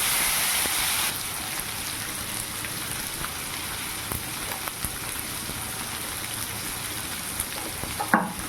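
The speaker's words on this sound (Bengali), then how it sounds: "তো যে এখন আলুটা দিয়ে দিলাম, ভালো করে কষিয়ে নেব।" Potatoes and tomatoes fry in a pan with a steady, close sizzle and hiss, plus a few light stirring scrapes, ending in a brief louder clatter.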